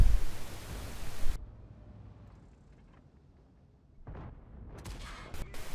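A tank cannon fires at an IS6 tank's turret in Conqueror's Blade gameplay: a loud, heavy blast cuts off abruptly into a quiet rumble, then another sharp burst and clattering follow near the end.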